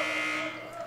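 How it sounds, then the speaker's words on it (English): A sustained electronic buzzer sounds at the end of the first quarter of a women's college basketball game against Montreat, a loud steady tone that fades slightly toward the end. "Danae Cox shoots at the buzzer."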